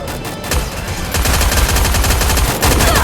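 Loud, rapid automatic gunfire from the video game Free Fire during a 4v4 match, with dense bursts of shots that grow heavier and more continuous after the first second.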